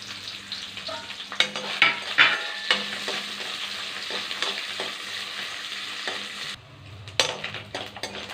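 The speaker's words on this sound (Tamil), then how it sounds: "எண்ணெய் காஞ்சிச்சு, தேங்காவை கல்ல அரிஞ்சு போட்டுக்கலாம்." Grated coconut fries in hot oil in a pan with a continuous sizzle, broken by spoon scrapes and clinks as it is stirred. The hiss cuts out briefly near the end and then returns with a clatter.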